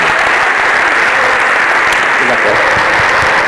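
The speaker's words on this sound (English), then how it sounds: "Please join me in welcoming him to the stage with the warmest applause." Loud, sustained audience applause fills the room at a faculty lecture, a dense steady wash of many hands clapping continuously without pause as the speaker is welcomed to the stage.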